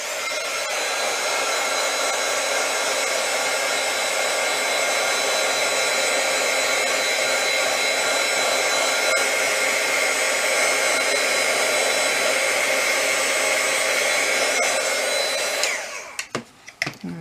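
A heat tool drying wet ink on craft tags blows as a steady, loud, even whoosh for about fifteen seconds, then cuts off and leaves a few small handling sounds.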